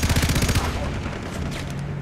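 Rapid automatic gunfire in Far Cry 3, a loud close burst of quick shots over the first half second that gives way to a rumbling, noisy tail of combat sounds.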